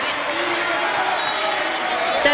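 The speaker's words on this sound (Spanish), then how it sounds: "¡Un aplauso!" Audience applause fills a parliament chamber, a dense, steady wash of clapping that holds at an even level for the whole stretch, with voices mixed in under it.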